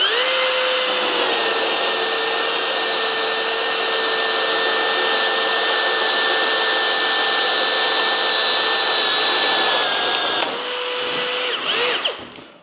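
A Flex right angle drill runs in turbo mode, drilling as one steady, loud, high-pitched whine that holds for about ten seconds, then winds down and stops.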